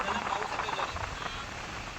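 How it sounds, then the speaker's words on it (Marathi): Rain pattering at a beach during an outing, a dense steady patter in cool wind, with voices faint in the background. "पाऊस येतोय"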